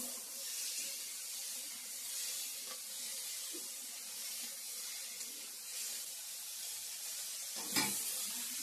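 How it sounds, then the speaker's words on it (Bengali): Potatoes frying in a pan, a steady soft sizzle and hiss continuing throughout, faint and even, with a brief clatter near the end. "এখন ভাজাটা বসিয়ে দিয়েছি"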